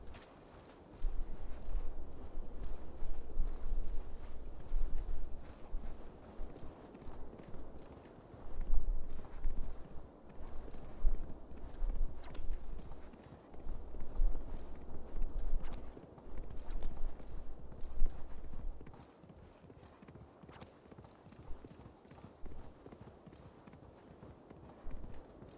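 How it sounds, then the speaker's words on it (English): Hooves of a galloping horse in the video game Assassin's Creed Valhalla beat in a quick, steady clip-clop rhythm for most of the stretch, then fade to lighter steps near the end, with no voices. "Run, horse, run."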